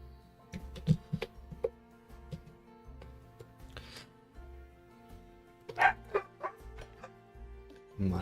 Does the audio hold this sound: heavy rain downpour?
no